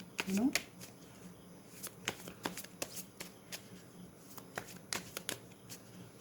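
Tarot-style cards are shuffled by hand during a pick-a-card reading, giving a series of crisp riffling flicks and soft slaps, some quick and clustered, heard close and moderately loud with a brief voice near the start.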